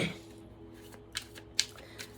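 Tarot cards being shuffled by hand, a few quick papery riffles and snaps over a couple of seconds, faint and close in a quiet room.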